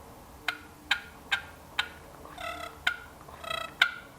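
A handheld turkey call imitating a wild turkey: a run of sharp, evenly spaced single clucks, then quick bursts of yelps, close and crisp with no talking.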